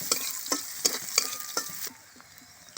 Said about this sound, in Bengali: তেল গরম হয়ে গেছে, পেঁয়াজ কুচিগুলো দিয়ে দিলাম। পেঁয়াজটাকে ভালো করে নাড়িয়ে নেব।